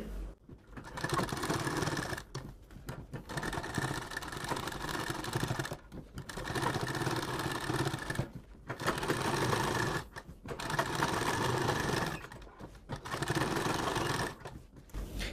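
A sewing machine stitches along the edge of a fabric face mask, whirring close and steady in about six runs of one to two seconds with brief pauses between, and no talk over it.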